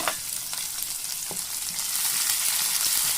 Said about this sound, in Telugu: ఆవాలు, జీలకర్ర, మినపప్పు, శనగపప్పు బాగా ఫ్రై చేసుకుంటాం పోపుని